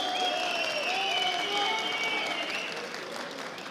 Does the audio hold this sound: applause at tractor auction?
yes